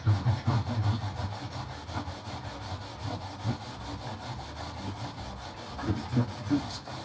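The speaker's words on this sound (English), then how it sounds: "The wire brush makes quick work of it." A wire brush scrubs old padding off the metal body of a classic VW Bug in fast, rhythmic rasping strokes, close and continuous throughout, with no talking.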